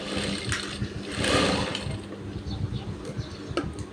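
A sewing machine stitching the back pocket fabric of men's trousers, its steady mechanical whir running throughout with rapid needle pulses and a brief louder burst near the middle.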